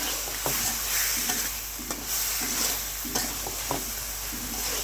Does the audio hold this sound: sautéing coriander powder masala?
yes